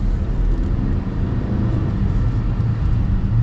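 Steady low road and engine rumble fills the cabin of a moving 2024 Hyundai Santa Cruz, a constant broadband drone heard from inside with no talking.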